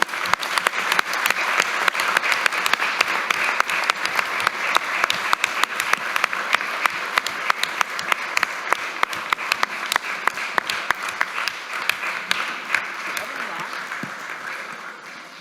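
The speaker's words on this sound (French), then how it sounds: "à l'image des applaudissements que vous venez d'entendre" Sustained applause from the members of a municipal council meeting, dense steady clapping for about fifteen seconds at even loudness, with no voices rising above it.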